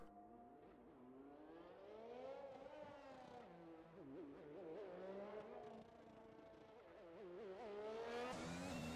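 A race car in F1 2021 accelerates hard out of the Monaco hairpin, its high engine whine rising and wavering through quick upshifts, loud and continuous with no talk.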